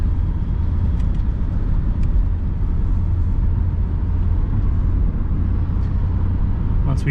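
An Audi Coupe cruising on the road in cold weather, with the heater fan off: a steady low engine and road rumble heard from inside the cabin, even and continuous, with no talking.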